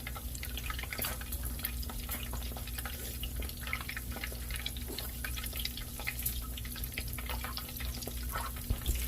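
Apple fritters frying in hot rendered lard give a steady, close sizzling crackle with faint bubbling and small pops, continuous and even throughout, with no voices.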